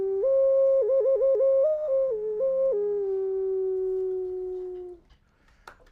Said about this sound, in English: this is a whistle out of stone